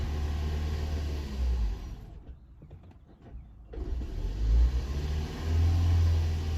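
A second-generation Toyota Prius engine at full throttle, running rough with misfires: a steady, loud engine roar close by that dips briefly midway, then surges back up.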